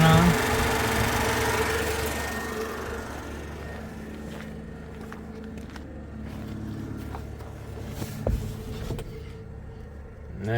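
A car's electric cooling fan, switched on through a bypass switch, whirs steadily as a low hum beside an idling engine, with a few clicks and brief knocks partway through.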